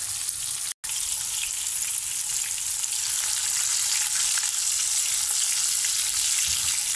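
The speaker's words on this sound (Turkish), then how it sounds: "Küçük balık kızarmak iyi oldu." Anchovies frying in a pan give a steady, close, loud sizzle that runs unbroken except for one very short dropout near the start, with no voices.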